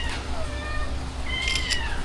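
Several cats meow on a rain-soaked island street, their rising and falling cries coming one after another over a steady hiss of rainfall.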